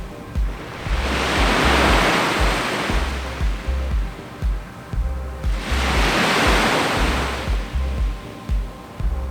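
Ocean surf roars in two long swelling waves that wash up and fade, with a steady low rumble and faint rhythmic thumps underneath.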